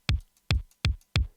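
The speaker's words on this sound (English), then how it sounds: "And without the 808, the 707 sounds like this." Roland 707 drum machine kick strikes four times in an even rhythm, punchy low thuds with a bright click on each attack, heard alone and close.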